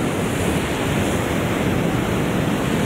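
Ocean swell of about 2.5 metres washes over rocks near high tide at Garie Beach in the Royal National Park south of Sydney, a steady, full roar of surf mixed with wind noise throughout.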